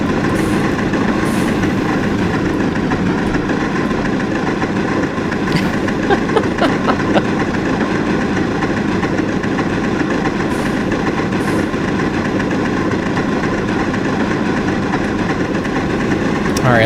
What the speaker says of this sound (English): You know you're doing it right when you're working the engine so hard that the whistle is hard to hear.